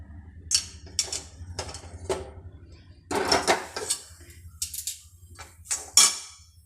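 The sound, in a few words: pan being taken off and moved to another stove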